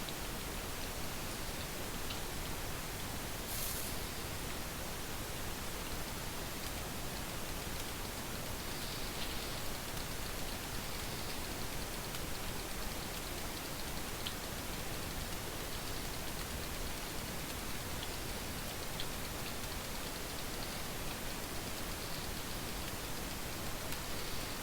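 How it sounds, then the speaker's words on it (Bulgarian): Constant rain in the video game The Forest, a dense, unbroken hiss of falling water that holds the same level throughout with no talk over it. "Постоянно вали."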